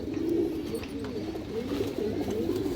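Old-line pigeons coo continuously in low, rolling murmurs, several birds close together with a steady, unbroken texture and no speech.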